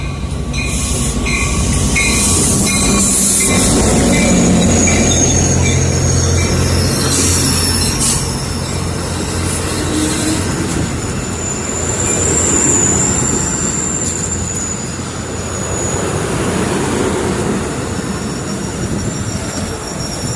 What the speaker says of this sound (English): This is Amtrak train 745.